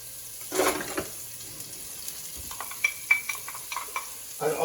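Onion sautéing in a pan, a soft low sizzle with bursts of clattering and scraping as it is stirred, fairly faint and close.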